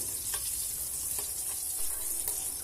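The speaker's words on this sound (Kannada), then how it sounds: "ಇದನ್ನು ಕೂಡ ಒಂದು 10 ಸೆಕೆಂಡು ಫ್ರೈ ಮಾಡ್ಕೊಳ್ಳೋಣ ಚೆನ್ನಾಗಿ." Whole spices fry in hot oil in a pan for matar paneer pulao, making a steady, bright, hissing sizzle throughout, with faint, light ticks of a utensil now and then.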